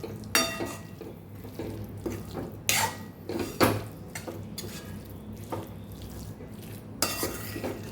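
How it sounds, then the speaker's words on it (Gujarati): Ivy gourd (kantola) is stirred with spices in a pan, a metal spoon scraping and clinking against the pan in irregular strokes, with faint sizzling underneath and no talk. "મસાલા સાથે સરસ કંટોલાને મિક્સ કરી લેવાના છે"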